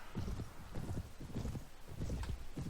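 Horse hooves galloping in Mount & Blade: Warband, a rapid, steady clip-clop of hoofbeats running the whole time at close range and fairly loud.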